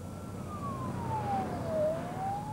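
A police car siren wails from a distance, one slow falling and rising tone over steady busy evening road traffic, with no talking.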